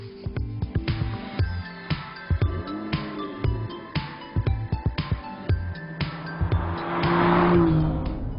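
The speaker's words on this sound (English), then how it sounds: "So what's the Aston Martin DB11 like to drive on these amazing Italian roads?" An Aston Martin DB11 driven hard along winding Italian roads in Tuscany, its engine revving and dropping through repeated gear changes with short bursts of acceleration, ending in a longer sustained pull with tyre noise.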